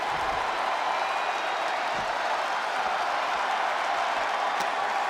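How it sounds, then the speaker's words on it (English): Wrestling arena crowd in WWE 2K24 during a King of the Ring match, a steady broadband roar of cheering and applause held at an even level from start to finish, somewhat distant with no voices standing out. "This crowd is thunderous right now."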